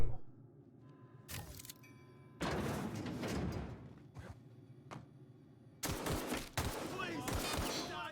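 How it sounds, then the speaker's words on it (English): Gunfire in The Outer Worlds: Spacer's Choice Edition, loud sharp bursts separated by quieter stretches of game ambience, with a sustained volley of shots toward the end. "But let's try a gunshot."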